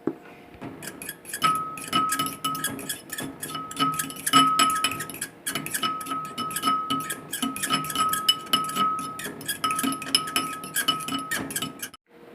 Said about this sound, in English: Let's stir this all the way up.